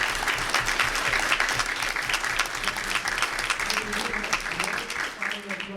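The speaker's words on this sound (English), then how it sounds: "I'd like to just lead a little round of applause just for all of us." Audience applause at an AI workforce event in Kansas City, a loud, dense wash of clapping from a nearby crowd that carries on steadily with some voices mixed in.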